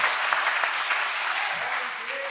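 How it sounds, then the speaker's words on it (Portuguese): Sustained audience applause in a church gathering, a dense wash of clapping from a crowd that holds steady throughout. "Vamos dar uma salva de palmas para essa família."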